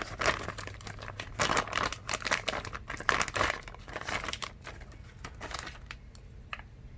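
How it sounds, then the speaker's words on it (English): Plastic bag crinkles and tears as a Reds 723 Truggy RC car is pulled out of its packaging, close and busy in bursts, easing off toward the end. "I'm gonna get it out the bag for y'all."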